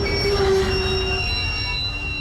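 A train slows as it enters a tunnel beside a rocky seaside line, its wheels squealing steadily over a continuous rolling rumble, loud and close throughout with no voices.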